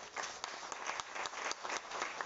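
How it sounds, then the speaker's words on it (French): Audience applause for a former Lord Mayor at an inauguration ceremony at the former Coca-Cola depot in Sainte-Croix, Mauritius: a short, quiet burst of scattered clapping from a crowd, fairly distant. "Applaudissements pour lui."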